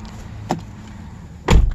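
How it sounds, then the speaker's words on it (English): A Toyota C-HR door is shut with two thuds: a lighter knock first, then a louder solid slam about a second later, close by with no talk. "Close the door."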